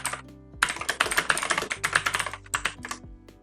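Rapid typing on a computer keyboard, entering a subheading in a presentation design program: dense, uneven bursts of close, crisp key clicks after a short pause, with no talking.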